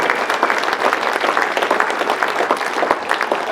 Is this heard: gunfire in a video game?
no